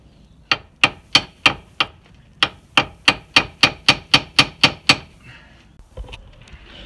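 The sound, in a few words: hammer tapping tapered bolt on VW T4 driveshaft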